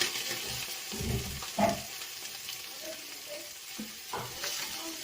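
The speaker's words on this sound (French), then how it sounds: "Je remue mes oignons." Onions being stirred in a pan while cooking a leek and carrot fondue, a soft steady sizzle with a few scraping stirs of the spoon, fairly quiet and close, no talking.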